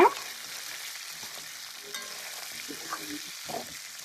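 Shallots and unpeeled garlic sautéing in a pan for a chicken curry, giving a continuous close frying sizzle with light stirring scrapes and a few clinks, no talk.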